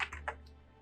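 Quick keystrokes on a computer keyboard while entering text in a photo-editing program, three or four close, fairly soft clicks in rapid succession, then quiet.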